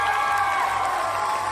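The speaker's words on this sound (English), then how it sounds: "the crowd goes wild" A crowd cheering sound effect: a short, loud burst of massed voices whooping and shouting, steady and sustained.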